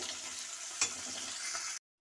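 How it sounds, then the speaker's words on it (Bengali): Chanda fish fry in hot oil with a soft, steady sizzle close by, and a single brief clink partway through, before the sound cuts off abruptly. "বাকি মাছগুলোকেও আমি ভেজে দেখাচ্ছি।"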